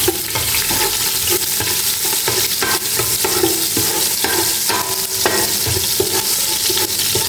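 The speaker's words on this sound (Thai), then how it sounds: "ใส่กระเทียมลงไปผัดค่ะ" Garlic stir-fried in a pan for braised pork leg, a loud, continuous sizzle with scraping and stirring clatter close by and no talk.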